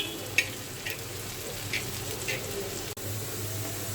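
Bean seeds simmer slowly in a pot, giving a steady, low bubbling hiss with a faint hum underneath and a few soft clicks, continuous and unchanging throughout.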